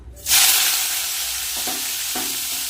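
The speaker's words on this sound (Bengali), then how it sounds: "তেল কিন্তু গরম হয়ে গেছে এবার উচ্ছেগুলো ভেজে নেব" Bitter gourd slices hit hot oil in a kadai and burst into a loud, continuous sizzle that holds steady, with a couple of soft stirring scrapes and no talking.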